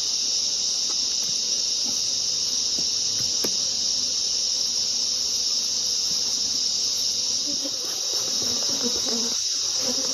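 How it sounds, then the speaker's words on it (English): Honeybees swarm and buzz around an open brood box during hive inspection, a steady, dense high-pitched hum that stays close and continuous with no talking. "These bees aren't particularly happy to see me."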